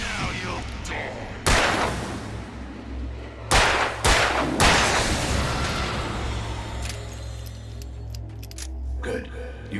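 Gunshots ring out in the psychological thriller game Alan Wake, a few loud, sharp cracks with ringing decays, one isolated and then a quick cluster of three, heard against a low droning background and occasional voice.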